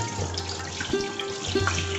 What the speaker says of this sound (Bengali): মাছগুলোকে ধুয়ে